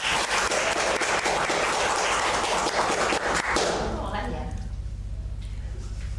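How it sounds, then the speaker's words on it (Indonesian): Audience applause welcoming a guest onto an Indonesian campus podcast: dense, loud clapping for about four seconds that then cuts off, leaving a low hum and quiet room sound. "Tepuk tangan."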